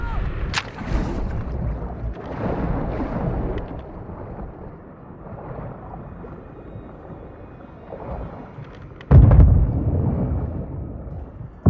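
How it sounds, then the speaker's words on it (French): Grenades explode underwater in Call of Duty Modern Warfare II, giving deep muffled booms and low rumbling surges, one much stronger thump near the end, all heard as if submerged. "Ils envoient des grenades dans l'eau, faites gaffe."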